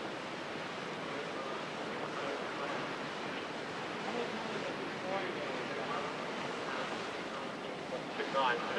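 Whitewater rushes steadily down a canoe slalom course at the 1988 Nottingham Europa Cup, a broad continuous roar with slight swells, and a commentator's voice runs faintly over it.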